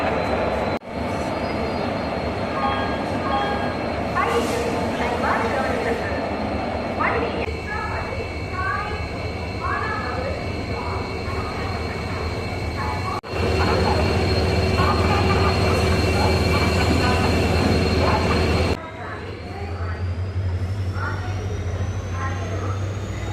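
Diesel-hauled Boat Mail train rolling along the rails toward the Pamban bridge, a steady loud rumble of wheels and carriage noise from on board, with voices talking over it throughout.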